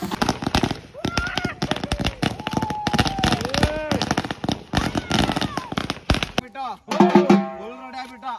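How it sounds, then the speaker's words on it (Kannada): A string of firecrackers bursts near a temple during a Ganesha festival, a loud, dense, rapid crackle that runs for several seconds before ending in a louder blast and a trailing tonal sound. "ದೇವಸ್ಥಾನ ಹತ್ರ ಪಟಾಕಿ"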